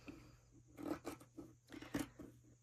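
Scissors snipping through fabric while cutting out curved Easter egg shapes for a sewing project, a few quiet close-up bursts of blade crunching in two clusters over a low steady hum.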